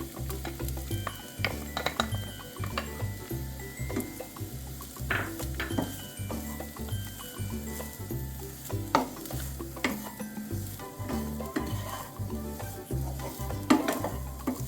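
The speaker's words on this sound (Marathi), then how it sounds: "आणि खोबरं परतून घेऊ थोडंसं" Grated coconut is stirred and roasted in ghee in a pan for ukadiche modak, with a soft continuous sizzle and repeated scraping and clinking of a spoon against the pan in an uneven rhythm.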